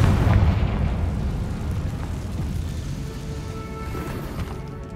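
A Confringo fire spell erupts in Hogwarts Legacy, a heavy low boom at the start that rolls into a sustained rumbling roar, loud and close, slowly fading across the whole stretch.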